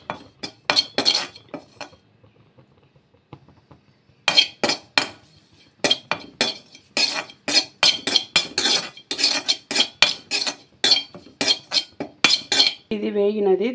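Kasuri methi roasting in a heated kadai as a spoon stirs it, giving bursts of rapid metallic scraping and clinking against the pan with short pauses between, close and fairly loud.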